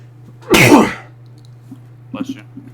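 A single loud, close sneeze bursts out, followed by quiet background hum and a brief murmured reply.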